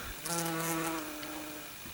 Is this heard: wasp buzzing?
yes